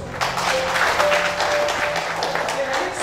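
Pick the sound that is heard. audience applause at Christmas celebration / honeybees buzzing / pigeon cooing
audience applause at Christmas celebration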